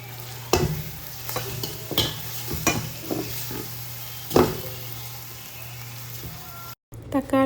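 Chopped tomato tossed into a pan of frying ginger, garlic and green chili, giving a steady sizzle broken by several sharp scraping stirs and clanks, with a brief drop to silence near the end.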